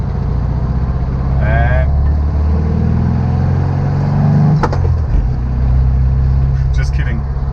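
A 1976 Volkswagen Beetle 1600sp with about 60 horsepower gives a low, steady engine drone from inside the cabin while crossing a speed bump, with a brief thump midway and someone talking over it.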